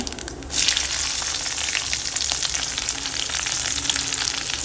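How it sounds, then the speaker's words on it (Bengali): Black cumin seeds and green chilies hit hot oil in a Bengali kitchen, setting off a sudden, loud, steady sizzle that crackles on without a break. "ফার্স্টে দিয়ে দেব কালো জিরে আর দিয়ে দেব কাঁচা লঙ্কা"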